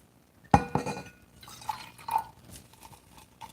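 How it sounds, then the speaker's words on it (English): Hot water poured into a cold weather meal pouch, opening with a sharp glassy clink, then splashing, trickling liquid in short uneven bursts, close and fairly quiet. "Throw a little hot water in first."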